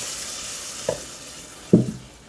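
Hot and green bell peppers stirred in a sizzling pan, a steady frying hiss broken by two sharp scrapes of the utensil against the pan, the second louder, with no talking.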